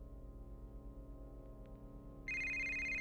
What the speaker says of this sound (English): I woke to a phone call from my wife.